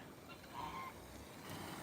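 Male geese at an animal sanctuary give a brief honk amid a low outdoor background, fairly faint and at a moderate distance, with no talking.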